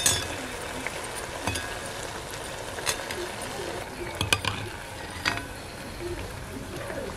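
Onion and potato bhaji frying in oil over a wood-fired stove, a steady close sizzle broken by occasional clinks and scrapes of a utensil against the pan.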